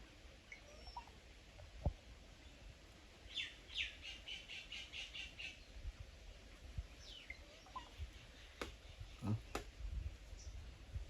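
A sparrow chirps near a house in hot summer weather, faint rapid series of high tweets and scattered squawks in a quiet rural setting, with soft knocks and rustles in between.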